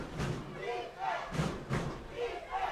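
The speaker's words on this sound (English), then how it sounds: "The crowd bringing the noise ahead of first down" High school football stadium crowd at a Miami Norland Vikings versus Cocoa Tigers game, roaring and yelling in swelling bursts before a first-down snap, moderately distant with a few thuds.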